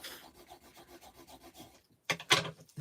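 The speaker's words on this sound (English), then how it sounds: "just giving that a burnish on both sides" Paper being burnished with a tool on both sides while making a flip-style mini album, heard as steady, soft rhythmic rubbing strokes up close, followed by a couple of louder, sharper scrapes near the end.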